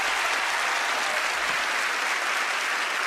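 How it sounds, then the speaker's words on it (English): A studio audience at Penn & Teller: Fool Us breaks into steady, dense applause that holds at an even level throughout with no talking over it. "Give them a big round of applause."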